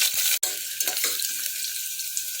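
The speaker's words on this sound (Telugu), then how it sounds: "లవంగాలు యాలకులు చెక్క రెండు బగారాకులు వేసుకోవాలి తర్వాత ఉల్లిగడ్డలు వేసుకుందాం" Onions frying in a pan of oil with cloves, cardamom, cinnamon and bay leaves for Sunday tomato rice: a steady close sizzle with a sharp clatter near the start and light stirring scrapes, no talking.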